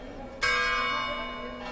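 A church clock bell in Calatayud, Spain, striking eleven, one loud close ring that sustains and decays, a second strike beginning at the end.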